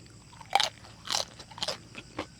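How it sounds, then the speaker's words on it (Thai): Crisp raw radish bitten and chewed up close, four or five sharp wet crunches spaced through a short moment, with no speech. "ผักกาดหัว กรอบมากอันนี้จะมีความขมหวานครับ"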